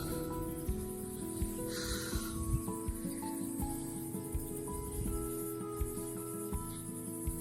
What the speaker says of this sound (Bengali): কি ঝিঝি পোকার ডাক শোনা যাচ্ছে।